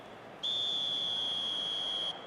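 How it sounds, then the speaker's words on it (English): A referee's whistle blows for half-time in eFootball 2025 as one steady, shrill tone of nearly two seconds, sounding alone over faint crowd ambience. "There's the whistle for half-time."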